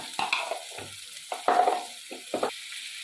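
Onion, garlic and spice paste fries in a pan while being stirred for a dal, with several scraping bursts of sizzle and stirring over about three seconds, each swelling then fading, close and moderately loud with no talking.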